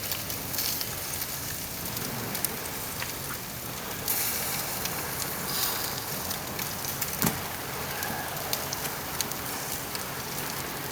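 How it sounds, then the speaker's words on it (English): A couple of steaks grill outdoors in the evening, giving a soft, steady sizzle with light crackles and pops; fairly quiet and continuous with no talking. "Ain't nothing like grilling a couple of good steaks on a pretty evening"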